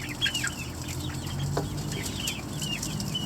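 A flock of chickens clucks softly and repeatedly at moderate distance over a low steady background rumble.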